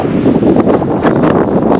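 Breezy wind buffeting the microphone outdoors by the bay in Wellington, a continuous close rumbling gust with rustle, no voices.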